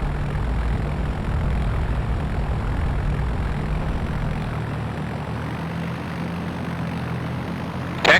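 A trainer aircraft's propeller engine idles steadily at about 1,000 RPM while taxiing out to the runway in the Flight Unlimited III flight simulator, giving a constant droning hum that lasts throughout with a short bump at the very end.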